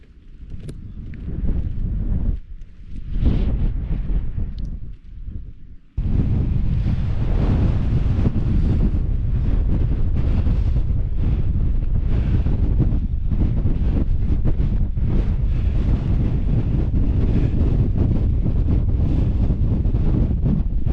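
Strong gusty wind buffets the microphone on an exposed summit of the Beacons Way in Wales, a loud roaring rumble that eases briefly early on, then blasts continuously.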